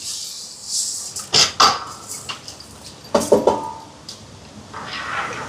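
Cooking pot and ladle clank and knock as sago is stirred into a large pot for a Sri Lankan almsgiving meal, with a few sharp metallic hits in the middle and quieter scrapes around them.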